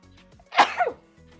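A single sharp, intense sneeze bursts out close by against a quiet background, with a quick double burst at its peak.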